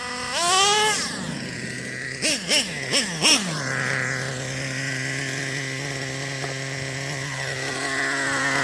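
Chainsaw engine being carburetor-tuned, revving up sharply then blipped through four quick throttle bursts before settling into a steady, buzzing idle, close and continuous.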